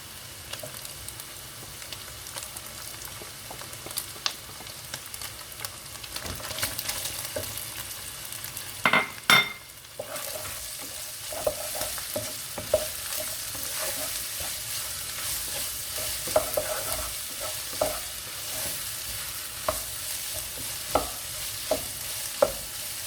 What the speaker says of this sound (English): I'll add in the white onions only